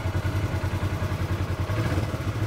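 An engine idles and revs gently in a steady pulsing rhythm, close by and fairly loud, with no voices over it.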